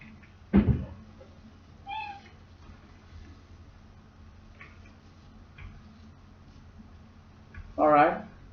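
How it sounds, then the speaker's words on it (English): A domestic cat meows a few times, a short cry near the start, a faint one mid-way and a louder drawn-out meow near the end, over quiet indoor background with a voice talking. "that's my cat."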